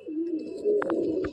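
A Madrasi pigeon in a loft coos close by, a soft throaty rolling call lasting about a second with a couple of faint clicks, heard alone without talk.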